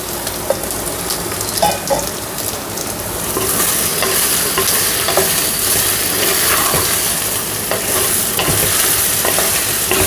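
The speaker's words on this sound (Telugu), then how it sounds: "ఇప్పుడు మనం సొరకాయ ముక్కలు వేసేద్దాం." Tender bottle gourd pieces drop into a hot oiled pan with ginger and are stirred, giving a loud, steady sizzle with scraping and clinking of the spoon throughout.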